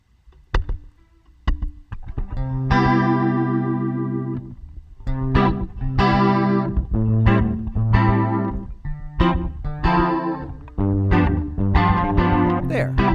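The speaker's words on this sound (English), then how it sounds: "Little slapback delay." An electric guitar through a PolyFuzz V mod plays sustained notes and short phrases with a quick slapback echo repeating each note and a touch of reverb, loud and close.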